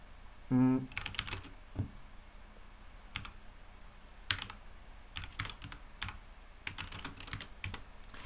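Keys clatter on a computer keyboard in scattered bursts while a program is written, close and moderately quiet, with a short tonal beep near the start and no speech.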